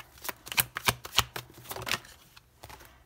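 Tarot cards being shuffled and drawn, a run of quick crisp riffles and snaps, close and fairly loud, thinning into softer sliding and tapping toward the end.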